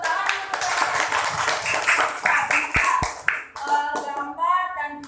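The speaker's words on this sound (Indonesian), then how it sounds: "tepuk tangan untuk" Children and a teacher clap in a classroom lesson, with a burst of mixed clapping at first that gives way to voices and tonal sounds.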